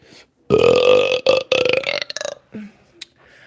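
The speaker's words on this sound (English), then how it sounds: "how somebody's been ripping my burps off." A long, loud belch rumbles right at the microphone, followed by several shorter gurgling bursts that trail off into quiet.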